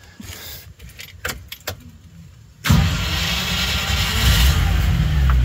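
The old V8 in a Land Rover Discovery starts after a few seconds of keys jangling and light handling noise, then runs close at a loud, steady idle with a persistent knock.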